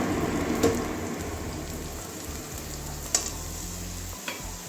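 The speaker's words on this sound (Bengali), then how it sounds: "আমার পেঁয়াজটা ভাজা হয়ে গেছে পেঁয়াজের কাঁচা গন্ধটা চলে গেছে" Onions frying in a pan while preparing stuffed spiny gourd, a soft continuous sizzle with a few faint clinks of stirring, fairly quiet and with no talk.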